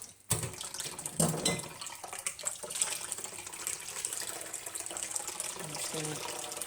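Liquid poured and strained through a strainer, a steady splashing, trickling flow running for several seconds, close and fairly loud, with some voice heard over it.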